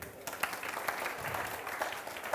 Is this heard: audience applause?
yes